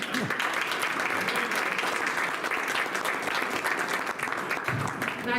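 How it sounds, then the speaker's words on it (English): An audience claps steadily for Abe Goldstien after his Yiddish talk, a dense, even wash of applause sustained throughout. "let's give Abe a big round of applause"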